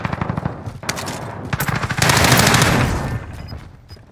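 Automatic gunfire from the video game Call of Duty: Warzone, rapid bursts of shots building into sustained loud fire that tapers off, with no talk over it.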